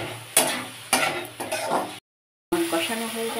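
Spice paste for muri ghonto fries and is stirred in a pan with a splash of water, producing close bursts of sizzling and spoon scrapes with a brief total dropout midway.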